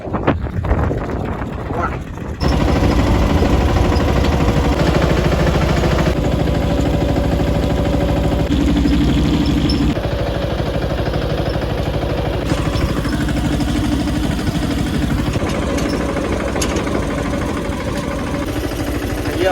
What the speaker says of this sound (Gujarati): હાલો હવે ટ્રેક્ટરમાં બેસીને તમને બતાવું કે કેમ ભાવેતર થાય